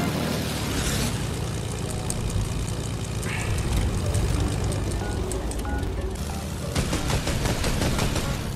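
Dense, continuous gunfire in the video game Fortnite, rapid cracking bursts over a rumbling engine drone, sustained and loud throughout.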